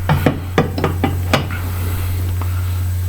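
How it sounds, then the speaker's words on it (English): A brass hammer taps a Lambretta two-stroke crankshaft, giving about seven close, quick knocks in an irregular rhythm before a quieter stretch with one faint later tap, all over a steady low hum. "Maybe just a good whack with a brass hammer."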